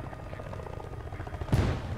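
An enemy helicopter in the video game Battlefield Bad Company 2 gives a steady, pulsing low rotor drone, with a sudden loud burst close to the end.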